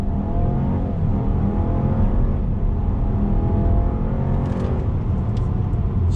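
A 2021 Buick Envision compact luxury SUV with a conventional shifting transmission accelerating hard from a dead stop, engine rising steadily in pitch with a smooth gear change, heard from inside the cabin without talk.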